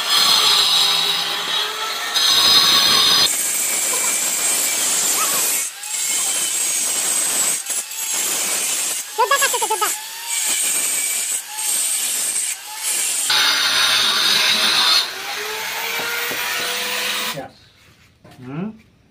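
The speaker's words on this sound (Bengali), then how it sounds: "চলছে মেশিন দিয়ে কাজ।" Power cutting machine grooving a house wall for electrical wiring, loud grinding bursts repeating with short pauses, voices talking in between.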